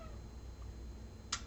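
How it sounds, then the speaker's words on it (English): A pet cat meows faintly in a quiet indoor room, with a soft drawn-out call near the start and a short sharper sound near the end, somewhat distant. "Sorry, my cat is talking to you as well."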